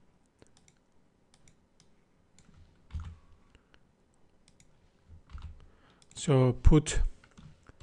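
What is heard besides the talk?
typing a file path on a computer keyboard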